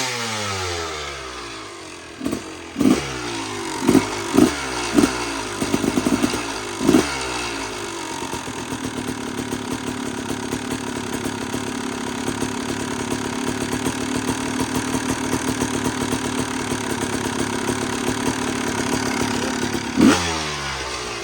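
Honda CR250R two-stroke motocross bike engine, 2022 new-build, idling with a buzzy, ringing rasp and several sharp blips of throttle early on, then settling into a steady close idle before one last rev.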